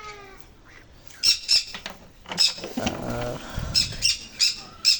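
Pineapple and green-cheeked conures at a home breeding aviary give repeated sharp, harsh squawks, fairly close and loud, in bursts over a softer background of chatter and faint rustling.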